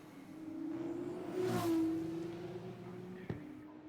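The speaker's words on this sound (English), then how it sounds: "Very little engine noise until the car gets into the braking zone." Race car engine in a racing video game at the Belgium circuit, a steady droning tone that swells and rises in pitch around the middle, then eases off, with a sharp click near the end; no talk.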